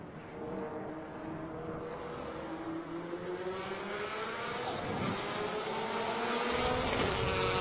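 A race car at full throttle on a Super Lap time-attack run at Circuit of the Americas in 2019, its engine note climbing steadily through the gears, loud and continuous with no talk over it.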